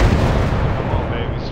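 Bombs dropping and exploding in the WWI air-combat game Warplanes WW1 Sky Aces, a loud continuous rumbling boom that thins out toward the end, with a voice faintly mixed in.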